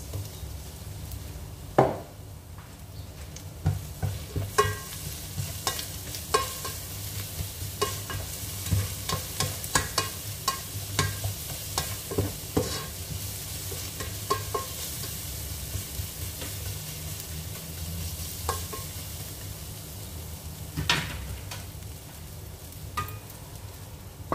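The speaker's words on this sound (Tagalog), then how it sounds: "dito sa salona, maglagay tayo ng kunting garlic" Garlic sizzles steadily in a pan for a long stretch while a utensil scrapes and clicks against the metal in frequent irregular strokes, close and moderately loud.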